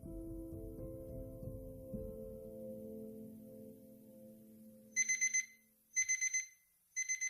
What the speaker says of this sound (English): after Laura had gone to the movies with Dan, she woke up to the loud beep of her alarm clock